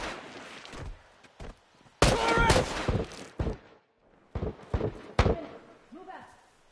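Gunfire in a multiplayer shooter video game: several sharp bursts and impacts, some loud and close, others quieter, scattered among voices talking over the action.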